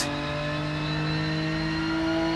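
Race car driving in the Rennsport racing video game: a steady, sustained engine drone with layered tonal whine, held at constant loudness throughout without speech.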